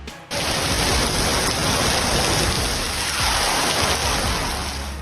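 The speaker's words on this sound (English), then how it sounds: "One side of the road is pouring with rain, while the other side remains completely dry." Heavy rain pours onto a road, a dense, loud, steady hiss that starts abruptly and continues unbroken.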